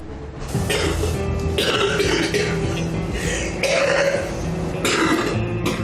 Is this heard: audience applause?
no